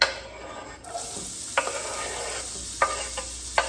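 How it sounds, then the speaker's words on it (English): Onions sizzle in a hot pan, a steady bright crackling hiss with occasional louder pops and stirring clicks, close by and with no voices. "Once you hear the sizzling, that means it's ready."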